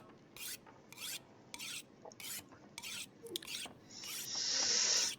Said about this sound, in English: Sharpen this axe.